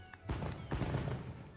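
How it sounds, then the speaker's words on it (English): Fireworks in the Monster Hunter Wilds video game: two quick, sharp pops in close succession, each followed by a short crackling tail, fairly faint. "I've seen every other firework except for this."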